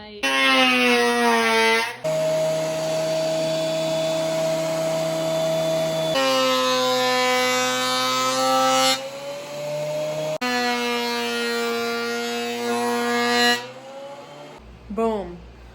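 A power planer runs through an epoxy and live edge wood plant stand with a loud, sustained tonal whine whose pitch shifts as it loads and unloads. It stops abruptly, followed by a short voice.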